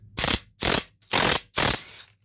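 A ratchet with a 6-inch extension works the starter bolts on a John Deere 25 hp riding lawn mower, making four even bursts of loud, rapid clicking close by, each about a quarter second long.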